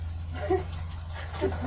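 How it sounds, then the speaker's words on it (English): A dog gives a few faint whimpers over a steady low electrical hum indoors, with brief soft yips spaced apart and no other clear sound. "Now you gotta let my dog out."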